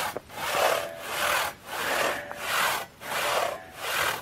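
A hand cross cut saw bucks wood in a steady back-and-forth rhythm, each rasping stroke swelling and fading in turn, close and clear with no talk.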